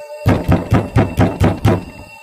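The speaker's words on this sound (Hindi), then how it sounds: "तभी फिर से कोई दरवाजा खटखटाता है।" Someone knocks on a wooden door, seven loud, evenly spaced raps that sound close and alone against silence.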